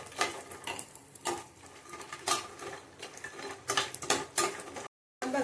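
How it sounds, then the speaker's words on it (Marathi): Almonds roast in ghee in a pan over low heat as a utensil stirs and scrapes them, sending repeated loud metallic clinks and scraping bursts at an irregular rhythm, with a brief gap of silence near the end. "ह्यातच आपण बदाम भाजून घेऊया"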